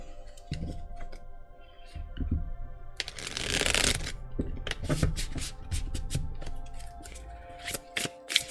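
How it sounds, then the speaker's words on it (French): Tarot deck being shuffled by hand, with soft card slides and rustles, a dense riffling burst in the middle, then a run of sharp crisp card snaps and clicks near the end, close and without speech. "je bats encore un peu les cartes, et on va regarder ce tirage."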